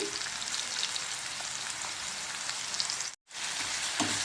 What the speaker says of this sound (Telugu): ఉల్లిపాయ వేసుకున్నాక కలుపుతూ ఫ్రై చేయాలి